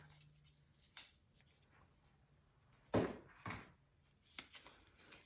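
Scissors cut through kinesiology tape for knee taping, giving a few quiet, separate snips and crisp cutting sounds close by in an otherwise quiet room.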